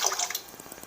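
A brief splash and trickle of water being poured into a cooking pot, starting with a bright gush and tapering into small drips.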